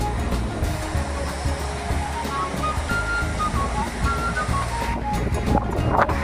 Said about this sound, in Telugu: గాలి మాత్రం విపరీతంగా వీస్తూ ఉంటుంది చూస్తున్నారు కదా